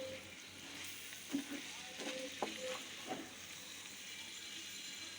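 Bitter gourd sizzles steadily in a pan, a soft continuous frying hiss with a few light scrapes and clinks of stirring throughout the short stretch.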